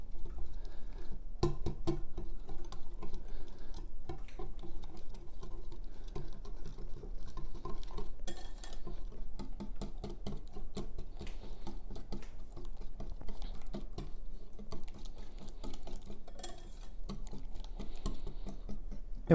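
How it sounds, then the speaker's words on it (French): Cooked rice being folded into muffin batter in a bowl gives a steady, soft, sticky patter with dense little clicks and squelches that keeps going without a break. No one speaks. "on le verse et on mélange bien le riz avec le reste de la préparation"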